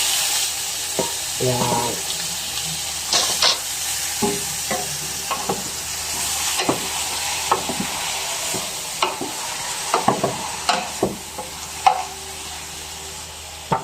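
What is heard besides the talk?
beef frying with onion and garlic in a pan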